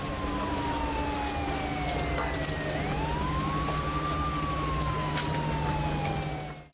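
Ambulance sirens wail through the city streets of Kyiv, the rising and falling tones fairly distant and echoing over a constant low urban rumble.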